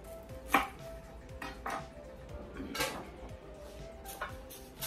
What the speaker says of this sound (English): not only am I gonna take the ends off, but I'm gonna cut them in half